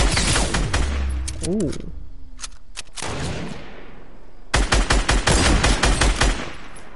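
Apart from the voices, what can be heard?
gunfire in the video game Fortnite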